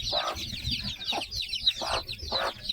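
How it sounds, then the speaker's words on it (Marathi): Hen clucking on a farm with young chicks, a run of short repeated clucks in four bursts, close and moderately loud, with faint peeping and farmyard background between. "ह्या कोंबडीने पिल्लं काढलेली आहे."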